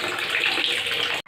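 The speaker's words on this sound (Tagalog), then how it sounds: "buti naman may tubig pang lumalabas sa gripo" Tap water runs steadily from a household faucet as a continuous bright splashing rush at close range, cutting off abruptly near the end.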